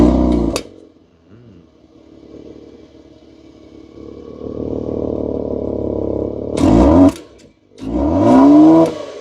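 A Kia Stinger 3.3 GT Meister on its stock exhaust starts with a sharp crack, idles, then builds into a steady swelling drone before two strong revs rise and fall, loud and close.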